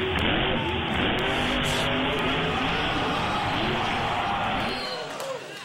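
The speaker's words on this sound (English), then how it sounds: "Here is the Polish athlete at a monster truck rally." Monster truck roaring at a monster truck rally, a loud, continuous engine blare with crowd noise beneath that eases off near the end.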